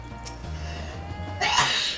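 A single sneeze bursts out near the end, close and fairly loud against a quiet room background.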